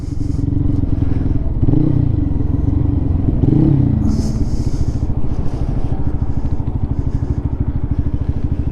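A Lifan KPM 200 motorcycle fitted with a new exhaust is ridden, its loud steady engine drone and rapid exhaust pulses rising and falling slightly under constant wind rush and occasional rattles.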